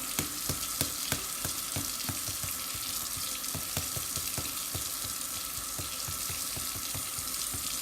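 Steady running water from a tap streams continuously, with faint clinks and light taps of eggs being cracked for peeling scattered throughout; no voices.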